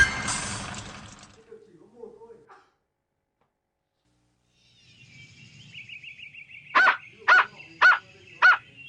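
Four evenly spaced dog barks sound close and clear, following a brief bit of music and a short quiet gap.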